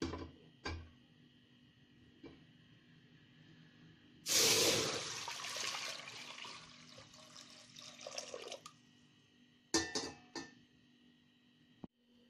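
Water is poured into a cooking vessel for rice in a home kitchen, a loud splashing rush that lasts about four seconds, then a few short trickles and clinks in an otherwise quiet room.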